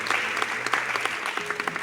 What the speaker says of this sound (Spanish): Por favor, un aplauso también para Piedad.